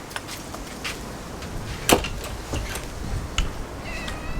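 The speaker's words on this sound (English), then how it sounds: "we've got a very loud, excited cat" An excited cat meows loudly several times indoors, with sharp clicks and knocks around it, including a sudden bang near the middle.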